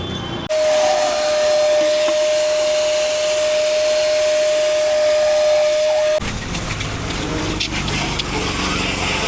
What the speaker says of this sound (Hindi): अंदर बाहर सब वैक्यूम लगाना बढ़िया से ना